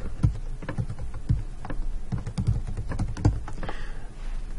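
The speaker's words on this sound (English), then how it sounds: "watch how I'm typing this." Rapid, steady typing on a computer keyboard while working in Microsoft Excel, keys clattering close and clear in an uneven stream with a brief pause near the end.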